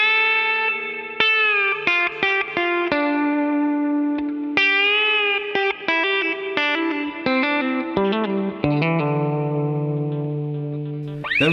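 Electric guitar with effects plays the opening lick of a song, a run of clear, sustained melodic notes with distinct attacks, loud and alone with no talking.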